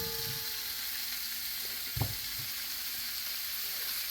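Three vegetables fry in a pan, a soft steady sizzle with a brief clunk of utensil or pan near the middle, quiet and close.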